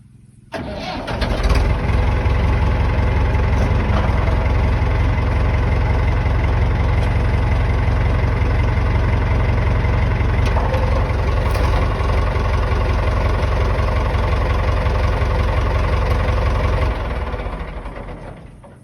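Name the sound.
Nuffield tractor engine started and idling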